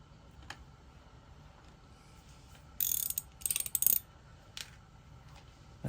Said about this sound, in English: That's a 12-sided 3/8 socket. Tighten that up,